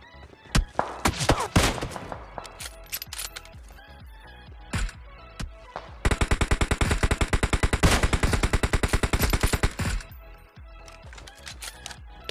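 Gunfire in a PUBG fight among squads around an apartment building, where Kar98 and AWM sniper rifles are in use: scattered sharp single shots first, then a long rapid burst of repeated reports, with no voices.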